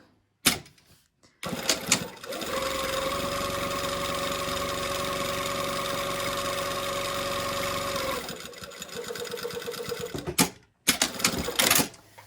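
A sewing machine runs a quick basting line along a collar, a steady mechanical whir of about six seconds framed by short bursts and handling clicks, with a brief second run near the end.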